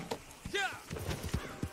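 Horse hooves clip-clopping in the video game Red Dead Online, soft irregular thuds at close range, with a short whinny-like voice sound early on, all fairly quiet.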